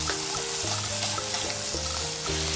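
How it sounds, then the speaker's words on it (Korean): Abalone and garlic stir-fry in a pan, a steady broadband sizzle heard up close with faint scraping, over a persistent low background drone and no speech. "마늘이 노릇노릇해지고 반 정도 익었으면 전복을 넣어주세요. 전복을 잘 볶아주세요."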